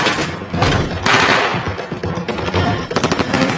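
Rapid bursts of automatic gunfire, loud and close, with several rattling volleys in quick succession.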